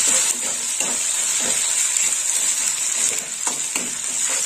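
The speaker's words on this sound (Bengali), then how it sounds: "এবার একটু কষে নেব। ভালো করে মশলাটা কষে নেব।" Spice masala frying in a pan for a banana flower and moong dal dish, with a constant loud sizzling hiss and a few spoon strokes scraping through it at irregular intervals, close up, no voices.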